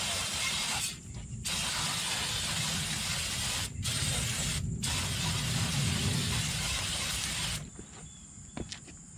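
Brake cleaner sprays from an aerosol can onto the rear brakes of a Jeep Wrangler in long, loud hissing bursts broken by brief pauses, ending in quieter clicks and taps.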